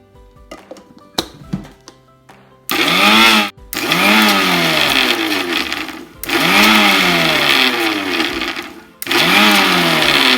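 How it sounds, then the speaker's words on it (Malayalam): An electric mixer-grinder whirs in three loud bursts as it blends egg yolk and mustard for mayonnaise, switched on and off with brief pauses, after a few light knocks at the start. "ഇനി നമുക്കിതൊന്ന് പതിയെ ബ്ലെൻഡ് ചെയ്തെടുക്കാം"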